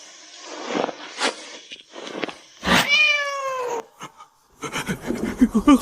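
A cat lets out a drawn-out, wavering meow amid rustling and shuffling noises, followed by a flurry of scuffling sounds.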